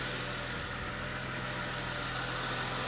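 A Mercedes ML350 engine idles after a service, a steady continuous mechanical hum with even low rumble, close and unchanging, with no talking.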